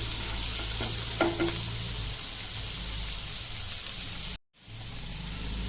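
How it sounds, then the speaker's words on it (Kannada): Onions fry in a pan for a hotel-style ivy gourd fry, a steady close sizzle with a few spoon scrapes early on and a brief dropout near the end. "ಈಗ ಇದು ಸ್ವಲ್ಪ ಫ್ರೈ ಆಗಬೇಕು ಈರುಳ್ಳಿ"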